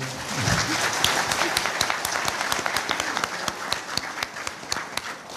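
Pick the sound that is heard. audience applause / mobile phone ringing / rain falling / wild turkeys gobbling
audience applause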